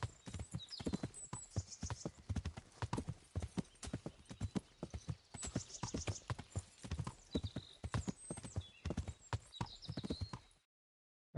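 A horse galloping in Kingdom Come: Deliverance, fast rhythmic hoofbeats pounding close and clear for around ten seconds, with occasional whinnies or bird-like calls above, ending abruptly in silence.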